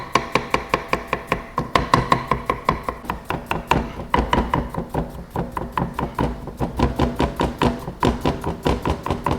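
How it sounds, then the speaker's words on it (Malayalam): A knife chopping an onion on a cutting board in a kitchen, producing a fast, steady run of sharp, close knocks that keeps going with brief pauses and no speech. "സവോള എടുത്തിട്ട് 2 വെട്ട് ഇങ്ങനെ നടുവേ വെട്ടിയാൽ മതി"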